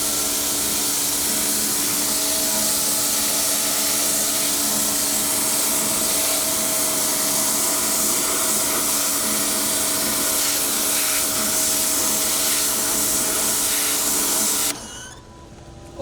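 A high-pressure washer blasts water in a loud, continuous hiss over a steady motor whine, then cuts out abruptly just before the end.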